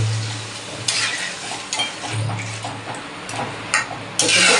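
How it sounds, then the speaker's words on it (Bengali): Curry frying in oil in a pan while gravy is added and stirred, with steady sizzling under scraping stir strokes and a few louder splashy bursts as liquid hits the hot pan. "এখন আমি এর দিয়ে দেবো পরিমাণ মতো ঝোল"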